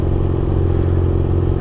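A BMW F800 motorcycle engine roars close and loud in a steady, heavy drone as it is held on the throttle for a wheelie.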